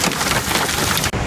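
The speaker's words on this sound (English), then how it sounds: "Sitting here in a hailstorm just east of Amarillo, Texas. Look at them, about the size of golf balls." Golf-ball-sized hail pours down in a hailstorm east of Amarillo, Texas, a dense, continuous clatter of hard stones striking nearby surfaces, loud and unbroken, with a brief dropout near the end.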